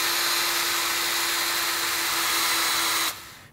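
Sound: drill twisting wire

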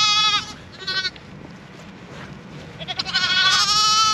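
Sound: sheep and lambs bleating in a field

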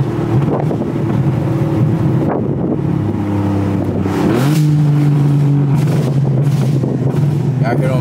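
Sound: car engine revving

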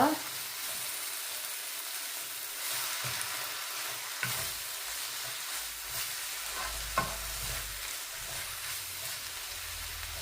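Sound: seeni sambal (onions) sautéing in a pan

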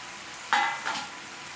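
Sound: cucumber chicken curry with tomato cooking in pan

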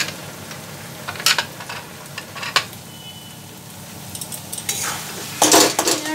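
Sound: stirring and frying spices with mashed brinjal in a pan

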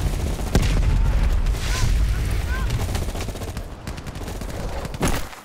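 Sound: gunfire in a firefight, video game Call of Duty: Black Ops Cold War

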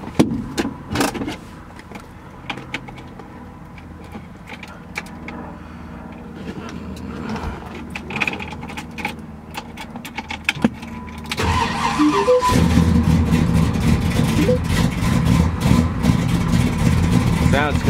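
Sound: 1968 Ford Ranchero GT 390 V8 engine starting and idling

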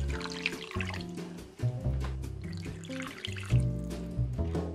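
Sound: pouring clean water into a clay pot

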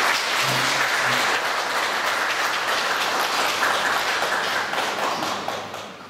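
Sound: audience applauding the two lecturers

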